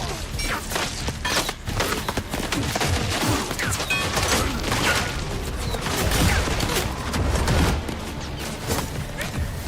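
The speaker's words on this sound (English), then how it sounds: "Bolt guns making them explode." Bolt guns firing in Total War Warhammer 40k, a dense crackling fusillade of rapid shots and explosive impacts, loud and continuous with bursts of crashes throughout.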